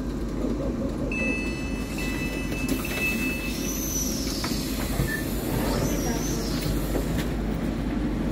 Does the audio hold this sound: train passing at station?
yes